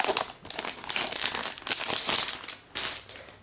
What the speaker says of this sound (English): Peel off the plastic.